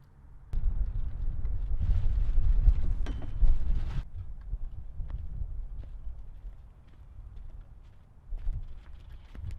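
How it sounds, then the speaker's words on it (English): Gusty wind buffeting outdoors while solar panels are set up, low rumbling bursts that rise and fall, with a quieter lull in the middle and another gust at the end. "It is a little bit breezy out here today"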